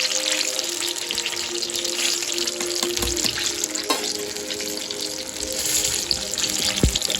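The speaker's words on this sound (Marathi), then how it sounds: "तेल एवढं गरम झालं ना पटपट पटपट पटपट होतात ना." Ridge gourd fritters (bhaji) sizzle and crackle in hot oil, a steady bright hiss with scattered pops and a couple of light clinks, no talking.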